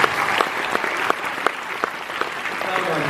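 Applause from a crowd at Liverpool Comic Con, a steady wash of many hands clapping with scattered sharper claps standing out, and talk mixed in underneath.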